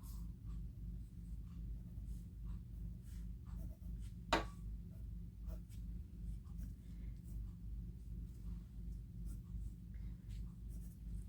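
A pencil lightly sketches on paper in a quiet indoor setting, making faint, soft scratching strokes with one brief sharper tap, over a low steady hum.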